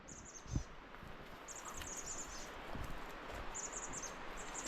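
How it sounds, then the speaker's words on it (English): A chestnut-backed chickadee sings from a high-country trail near the snow line, its thin, high chirping phrases repeating in short bursts over steady outdoor background noise. "There's a chestnut-backed chickadee singing a song up here."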